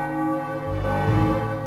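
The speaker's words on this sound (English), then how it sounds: "A bell's ringing." A deep bell in Final Fantasy IX tolls with a sustained, ringing resonance, loud and close, with a second strike swelling partway through.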